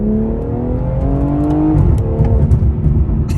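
A modded BMW 340i M-Sport revs hard and close, its engine note rising and falling with a shift, then crackling burbles and pops from the exhaust near the end.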